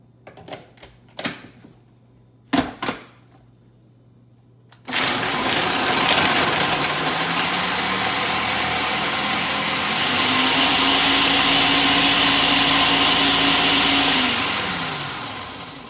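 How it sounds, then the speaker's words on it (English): A blender whirs steadily through frozen banana, berries and almond milk, a loud motor drone that starts abruptly after a few clicks and handling knocks and rises in pitch before winding down. "We are going to blend this together for 1 minute and then transfer it into a loaf pan."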